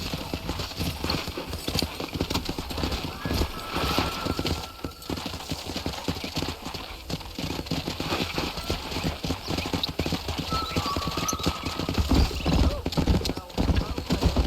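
Horses galloping with rapid, continuous hoofbeats in the Red Dead Redemption video game, plus a brief neigh, with characters talking over the steady clip-clop throughout.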